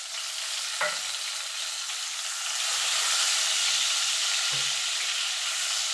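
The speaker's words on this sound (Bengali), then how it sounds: "টমেটোটা একটুখানি নাড়াচাড়া করে নেব" Chopped tomato frying in oil over a tempering of nigella and cumin in a pan, for a khoira fish curry: a steady close sizzle with a few soft stirring knocks as it is moved around.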